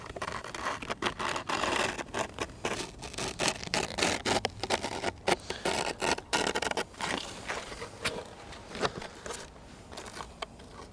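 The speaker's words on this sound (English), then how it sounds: "I'm using the sharp part of the blade. So if you put a little tension on like this" A dull knife blade is drawn through material under tension, giving close, repeated scratchy rasps and scrapes in uneven bursts with short pauses between strokes.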